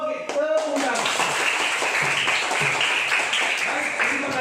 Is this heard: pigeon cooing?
no